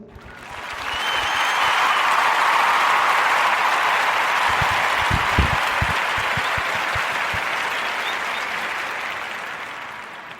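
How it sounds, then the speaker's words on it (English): A podcast audience applauds warmly in a sustained wave of clapping that swells quickly, holds steady for several seconds, then slowly fades, with a few louder nearby claps mixed in. "So give a warm Narrative podcast round of applause for Janelle Russo"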